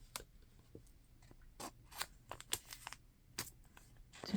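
Scissors cutting pieces of paper for a craft project, a scattered series of short, quiet, crisp snips close by in a quiet room.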